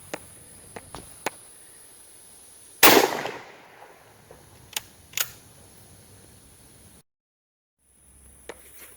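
A single sharp rifle report from a Mosin Nagant striking a homemade ceramic armor plate backed by fiberglass, one loud crack with a short decaying tail, then a few faint ticks and thumps over a steady outdoor hum.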